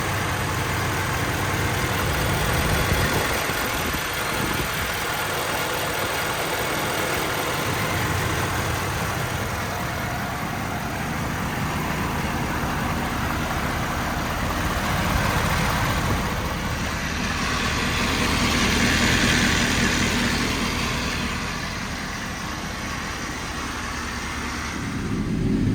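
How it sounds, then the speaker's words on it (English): A 2013 Ford F-550 diesel crane truck idles with its power take-off engaged, giving a continuous close, rough diesel rumble with a dense rattling chatter layered over it for the whole stretch. "That's just typical PTO chatter"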